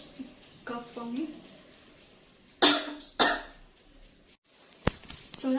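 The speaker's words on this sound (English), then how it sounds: "Can you please cough for me?" Two sharp coughs close to the microphone during a medical examination, following a few brief spoken words, then a quieter pause and another short burst.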